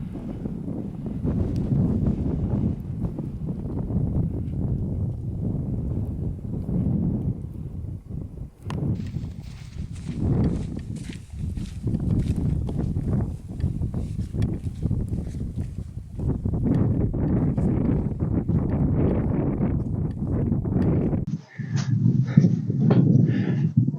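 A breezy, dry wind buffets the microphone on open, boggy moorland in steady gusty rumbles that rise and fall, loud and close, with no speech and a sharper rustle near the end.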